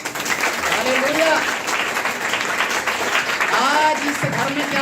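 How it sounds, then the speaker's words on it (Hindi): A church congregation claps along during a Hindi sermon. The applause is steady and continuous while a preacher keeps talking over it. "ताली बजा सकते हैं ना"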